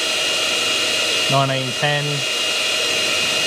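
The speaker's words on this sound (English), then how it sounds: "Many people have a hairdryer in the house. Put it on full heat mode." A household hair dryer runs on full heat, powered from an ALLPOWERS S2000 portable power station, giving a steady broadband blowing hiss throughout while someone speaks briefly over it.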